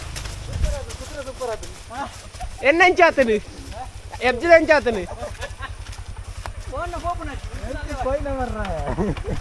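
Steady, rhythmic clip-clop of horse hooves close by, running throughout while people talk over it.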